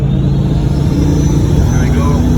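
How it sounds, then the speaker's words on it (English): Audi RS4 B7 with a single-turbo setup, the engine humming steadily with a low drone and a faint rising turbo whistle, heard from inside the car under a constant rumble. "She really spools, like you can see that, barely touch the throttle."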